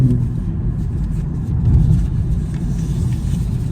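Interior car noise while driving on a caravan service day, a steady low road rumble and engine drone with slight swells, no talking.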